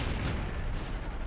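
Gunfire in a team shooter video game, a dense rapid burst of shots and rumbling impacts filling the whole moment at steady loudness, with no voices.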